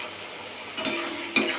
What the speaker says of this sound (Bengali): এখানে পেঁয়াজ, এরকম পেঁয়াজ ভাজতে দিয়েছি